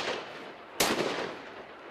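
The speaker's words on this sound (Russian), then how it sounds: "Звучат выстрелы, и медведь больше не подает признаков жизни." Gunshots fired at an aggressive bear that broke into a shopping centre in Khabarovsk Krai: a sudden loud blast or quick burst near the midpoint, cutting through steady background noise and trailing off into echo.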